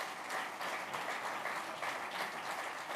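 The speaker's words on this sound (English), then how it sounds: "I kindly ask you to give a big round of applause" A conference audience gives the speakers a round of applause, a dense, even patter of many hands clapping with gentle swells, no voices over it.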